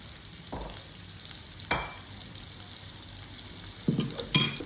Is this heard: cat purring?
no